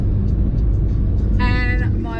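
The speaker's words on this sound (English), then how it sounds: "we are cruising down the freeway heading to the Berry Markets" Inside a car cruising down a freeway, a steady low road and engine rumble fills the cabin while someone talks over it.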